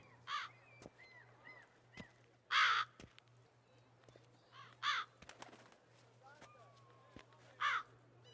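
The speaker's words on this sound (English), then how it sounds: "Sure, a lot of fucking crows." Crows caw in The Witcher 3: Blood and Wine, four or five separate harsh calls spaced a couple of seconds apart over a quiet ambient backdrop, with faint voices in between.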